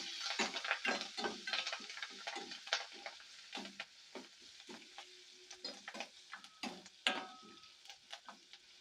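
Asafoetida and curry leaves sizzle in hot oil for a tempering, with bursts of crackling and spitting close by, mixed with stirring and light clinks of a pan.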